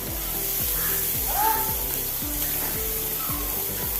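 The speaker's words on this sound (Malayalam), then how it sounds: "ഇനി രണ്ട് സവോള അരിഞ്ഞ് ചേർത്ത് കൊടുക്കാം" Chopped onions fry in a pan for a vegetable macaroni masala pasta, giving a soft, continuous sizzle under a repeating low tonal background pattern.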